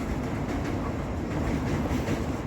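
The Puri Jagannath Express crosses the long Mahanadi rail bridge at Sambalpur, Odisha, with a loud, steady rumbling roar of wheels and carriages and a faint rhythmic clatter throughout, no voices.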